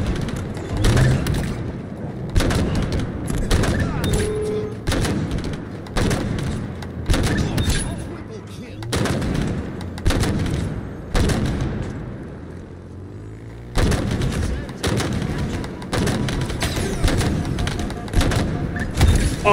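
Gunfire in the video game Halo comes in dense repeated bursts with booming impacts, loud and near. Short gaps separate the volleys, and a voice talks over the action.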